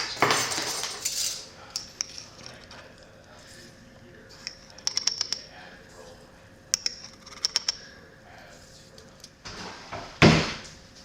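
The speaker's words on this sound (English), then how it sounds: "I'm gonna whisk it together" Active dry yeast with granulated sugar is whisked in a bowl, heard as scattered bursts of quick metallic clinking against the bowl separated by quieter gaps, ending with a louder clatter.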